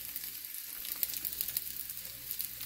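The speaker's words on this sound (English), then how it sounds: "I just needed a little bit of oil to saute my vegetables in." Vegetables sauté in a little oil in a pan for a Jamaican steamed fish dish, giving a steady close sizzle and crackle throughout with no talking.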